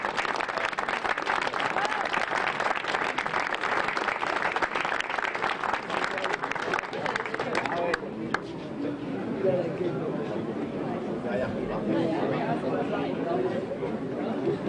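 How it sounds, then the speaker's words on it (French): Sustained applause from an audience at a hunting horn (trompe) world cup in Le Mans, loud and dense for about eight seconds, then thinning into scattered clapping with crowd chatter. "on peut les applaudir bien fort pour ce qu'ils ont accompli ce matin"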